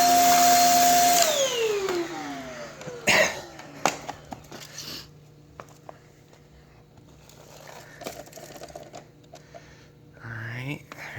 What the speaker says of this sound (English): we're going to go back over and vacuum everything for one last time